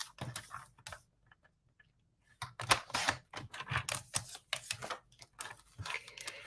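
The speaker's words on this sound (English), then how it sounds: "let's cut this at 4 inches by 5 1/4" Paper being cut to 4 by 5 1/4 inches for a card, a run of crisp close clicks and snips in uneven bursts after a short quiet pause, with no talking.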